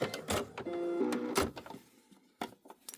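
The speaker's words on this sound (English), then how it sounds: "I'm going to stitch all the way around, catching this open seam" A sewing machine stitching around an open seam, a close, quiet motor whir in two short bursts separated by a pause, with handling knocks and rustles of fabric around them.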